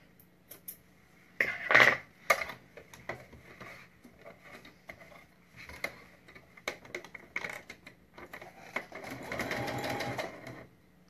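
A sewing machine stitches a zip onto a triangle pencil case in short, uneven bursts with pauses between, moderately close, with a few ticking clicks and a longer run near the end.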